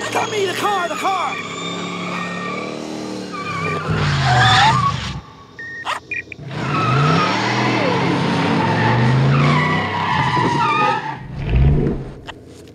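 A DeLorean skids with screeching tire squeals in two long bursts separated by a short pause, loud and close, with people shouting over the screeching.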